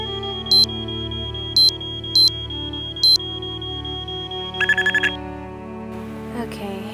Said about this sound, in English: And then let's turn off the alarm.